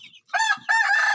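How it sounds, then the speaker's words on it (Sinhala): Village chickens, with chicks from a black hen and a speckled hen, calling at close range: a short cluck, then a loud, drawn-out crowing call that runs to the end. "මෙන්න ඔය කියන ගෝමරි කළුයි දෙන්නගෙම මේ පැටව් ටික."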